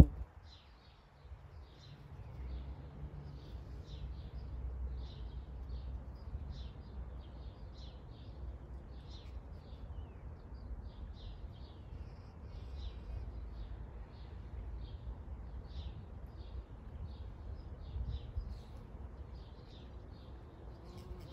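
Birds beside a garden fish pond give faint, repeated chirps that run steadily in the distance over a soft, low outdoor rumble.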